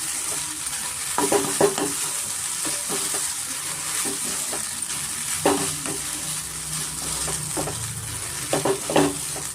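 Egg vermicelli (shavige bath) sizzles and fries in a pan as it is stirred, with steady frying hiss and repeated scraping and stirring knocks throughout, close and moderately loud, no talking.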